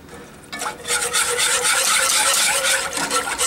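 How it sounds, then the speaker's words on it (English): A whisk scrapes briskly and rhythmically against a pot as half and half is stirred into soup, starting after a brief quiet moment and continuing steadily and close by. "So I'm just going to whisk that together."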